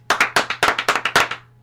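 About a dozen sharp, evenly spaced hand claps ring out in a steady rhythm, close and loud, with a low hum beneath, as the audience claps along to a song.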